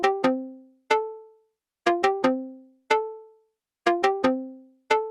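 Short, clean plucked notes from an Elektron Analog Four MKII synthesizer repeat in a simple syncopated loop, each note decaying quickly into silence before the next cluster.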